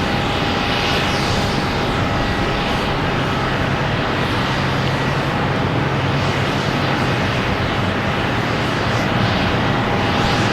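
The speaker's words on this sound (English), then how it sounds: "next to arrive, we have WestJet coming in from Vancouver" WestJet jet arriving from Vancouver at Boston Logan Airport, a loud continuous engine roar with a steady whining tone running through it, even and sustained for the whole stretch, no talk.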